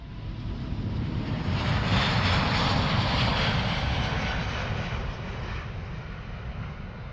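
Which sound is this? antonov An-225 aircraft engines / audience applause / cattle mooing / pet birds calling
antonov An-225 aircraft engines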